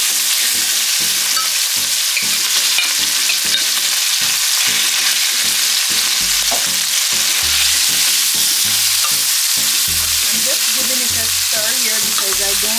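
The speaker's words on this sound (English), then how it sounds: "Now the oil is hot, so I will add the chicken." Small chicken pieces frying in hot cooking oil in a frying pan for homemade quesadillas make a loud, continuous close sizzle, with occasional stirring clatter and no talking.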